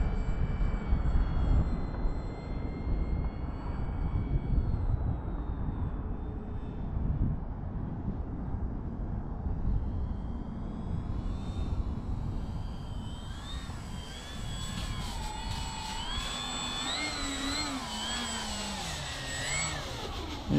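A HobbyKing Avios Albatross HU-16 radio-controlled model plane in US Coast Guard livery flies in to land, its electric motor whining steadily and shifting pitch as it turns and descends, with a continuous hum that grows nearer.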